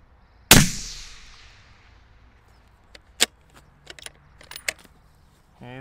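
A 6.5 SAUM rifle fires a single loud shot during load development, its crack decaying over about a second, followed by a few quieter clicks and metallic handling sounds.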